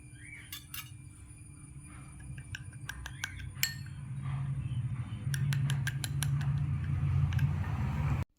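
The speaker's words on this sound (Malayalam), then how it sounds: "അതിലേക്ക് ഒരല്പം കടലമാവും കുറച്ച് തൈരും ചേർത്ത് നല്ലപോലെ മിക്സ് ചെയ്യാം" A spoon clinks and scrapes against a bowl while stirring a paste of neem, dried ground turmeric, gram flour and yogurt, giving irregular close metallic taps that quicken and thicken toward the end.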